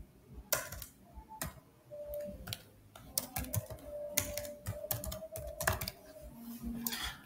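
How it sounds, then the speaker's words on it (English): Typing an email on a computer keyboard, close quiet irregular key clicks in quick clusters with brief pauses between. "type the email."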